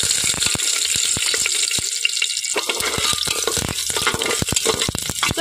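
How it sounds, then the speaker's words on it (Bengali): Green chillies, fenugreek seeds and bay leaves sizzle in hot mustard oil, a steady loud crackle with sharp spitting pops throughout, no voices. "এখানে দিয়ে দিচ্ছি কয়েকটা কাঁচা লঙ্কা"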